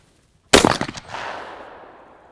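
A single loud, close blast from a semi-automatic smoothbore shotgun at a shooting range, followed by a rattling echo and a long fading reverberation.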